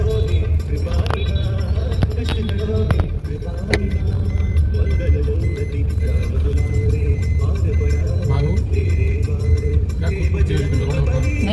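A car drives along with a steady low rumble of engine and road noise throughout, with a few faint clicks and rattles in the cabin and people talking over it.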